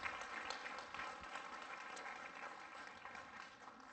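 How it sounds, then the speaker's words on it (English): Applause from a ceremony audience honoring Korea-era and Vietnam-era veterans, fairly quiet and distant, strongest at the start and gradually tapering off. "can we have a round of applause for all of our veterans who shared their stories?"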